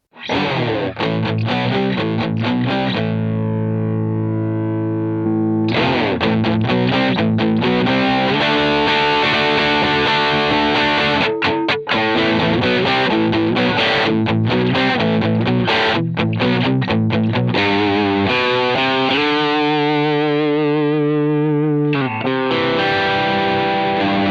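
Heavily distorted electric guitar plays chords and riffs, cutting off cleanly into silence at pauses as a noise gate closes, then slamming back in.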